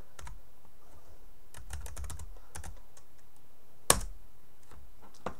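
Computer keys are pressed while working in Flash, scattered soft clicks in small bursts with one sharper, louder key strike near the end, close and quiet with no talk.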